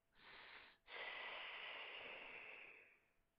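A breath drawn in through the teeth with the tongue held in the S position, a close, soft airy hiss with a brief break near the start, then a longer steady intake that fades out; no talking.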